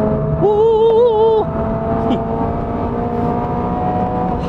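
A Toyota GR86 / Subaru BRZ prototype sports car pulls hard at full throttle with an automatic transmission, a steady engine drone climbing in pitch inside the cabin, with a rising whine early on.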